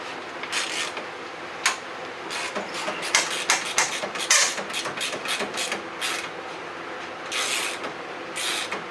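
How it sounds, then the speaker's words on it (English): Engine brackets being removed from a 1999-2003 Subaru Outback: scattered close metallic clicks, ratcheting and tool clatter in uneven bursts over a steady low background hum, with no talking. "We're just going ahead and removing these brackets."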